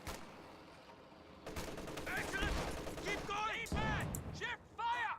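Rapid bursts of MG34 machine gun fire in the strategy game Company of Heroes 2, crackling repeatedly over a battlefield din of other shots while a commentator's voice talks over it.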